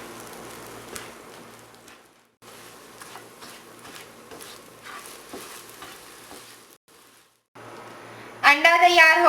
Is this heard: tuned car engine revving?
no